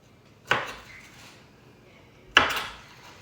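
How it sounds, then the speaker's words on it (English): A knife cutting through vegetable florets on a board, two distinct sharp chops about two seconds apart, close and clear against a quiet background. "So we're just cutting up those florets."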